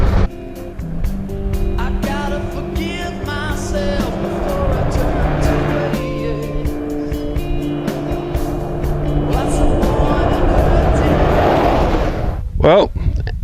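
A 4WD vehicle drives along a well-graded outback dirt track toward a homestead. Its engine and tyres make a steady, close rumble that continues without a break for the whole stretch.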